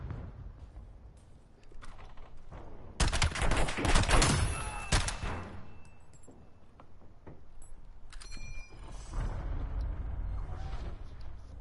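M1 Garand rifle fire in Black Ops 7, with a burst of loud, sharp shots in the middle, scattered quieter shots and clicks, and a metallic reload ching near the end.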